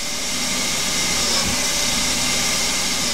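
A small Hercus PC200 CNC lathe cuts a thread with a full-form insert on a vintage BSA Empire Star motorcycle part, giving a steady, loud broadband whirring hum that runs without a break.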